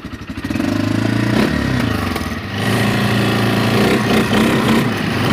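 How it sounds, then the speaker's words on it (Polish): A quad bike engine sputters to life and revs roughly, a loud rattling drone rising and dipping close by over several seconds. "Ty Ada, ja odpalam jak kosiarkę"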